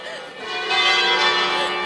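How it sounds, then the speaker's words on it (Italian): Church bells ring steadily with a dense wash of overlapping tones, fairly loud and sustained throughout, at an outdoor market in San Giorgio Canavese, Italy. "qua ci sono le campane"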